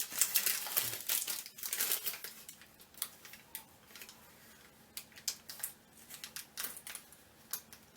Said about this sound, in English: I knew I felt a piece of paper.